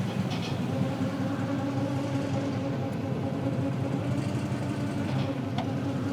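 The engine of a 1955 Chevy Napco clone hums steadily while the transmission is shifted between reverse and forward, a low continuous running tone with a few faint mechanical clicks.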